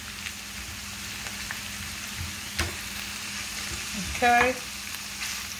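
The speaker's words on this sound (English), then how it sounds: "We just gonna saute it all together." Bite-size pieces of smoked sausage sauté in a pot for chicken bog, giving a steady low sizzle throughout, with a brief clatter near the end and a single short spoken word.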